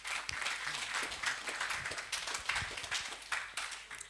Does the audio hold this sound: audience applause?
yes